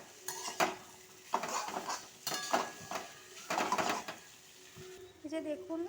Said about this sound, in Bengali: এবার দিয়ে এগুলো একসাথে মিশিয়ে নেব এগুলোর সাথে।